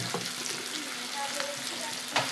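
Paneer frying with turmeric, cumin powder and Kashmiri chilli powder, a dense steady sizzle with a few faint stirring taps, close by and without talk.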